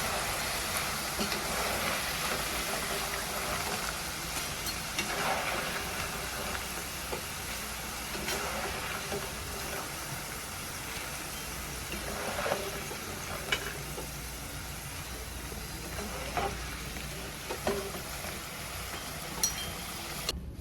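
French fries frying in oil, a continuous broad hiss and crackle that stays even and fairly quiet throughout, with a few faint clinks scattered over it.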